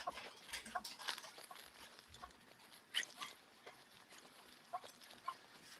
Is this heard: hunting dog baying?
yes